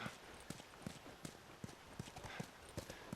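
Horse hooves clip-clop at a steady walking pace in The Last of Us, roughly two to three steps per second, faint and close, with no talking.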